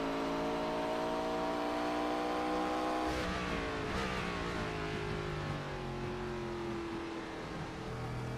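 An ARCA stock car engine roars steadily during an onboard lap of Watkins Glen in the iRacing sim, its pitch falling sharply once around the third second before holding a strong, even drone; no voices.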